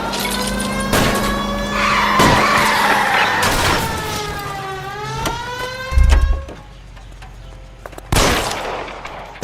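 A car chase in L.A. Noire, with tyres skidding and squealing in long wavering screeches over engine roar, punctuated by sharp bursts of gunfire and a heavy thud near the end, loud and close with no talk.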